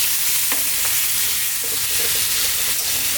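Potato curry with tomato and fresh chili sizzles steadily in a pan while a spoon stirs and scrapes through it, a close, continuous frying hiss with light clicks and tapping.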